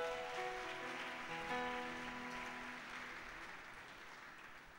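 A church congregation applauds, a broad wash of clapping that fades gradually, while sustained organ or keyboard chords ring underneath. Nobody speaks.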